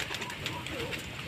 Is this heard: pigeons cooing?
yes